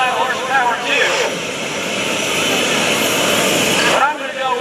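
An aerobatic airplane flies at the 2014 Greenwood Lake Airshow, its engine roaring steadily and loudly as it passes, with a rising and falling whine, under crowd noise and nearby voices.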